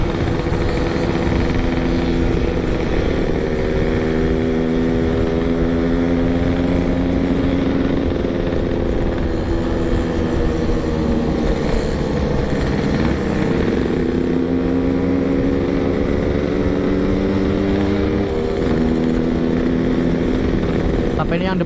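A group of motorcycles riding slowly together on a rough road, a loud continuous engine drone with low rumbling harmonics that rise and fall gently as throttle changes, close up and steady for the whole stretch.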